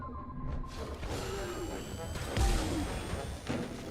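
A grenade blast in the video game The Bureau: XCOM Declassified, a heavy low thump partway through amid ongoing combat noise and shouting voices.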